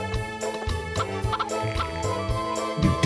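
A chicken clucks in the Harvest Moon 64 farm video game, with short repeated bird calls over bright looping game music.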